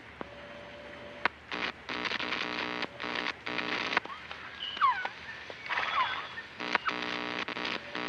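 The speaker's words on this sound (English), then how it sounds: "She went out into the jungle to record bird calls and stumbled upon this." Jungle bird calls recorded in Metal Gear Solid: Peace Walker come as chirps and short squawks over a buzzing, stuttering electronic background that cuts in and out in bursts.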